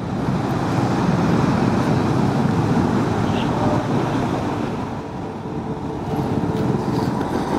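Road traffic rumbles through a tunnel with a 50 km/h speed limit, heard during a motorcycle ride toward Sonmarg; a continuous loud, reverberant roar of engines and tyres with wind buffeting, steady throughout.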